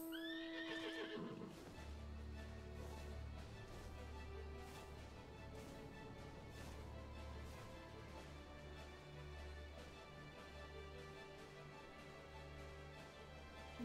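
Horse neighing in the video game Final Fantasy XIV, a high whinny at the start followed by a steady clip-clop of hooves over a low ambient music bed, fairly quiet overall.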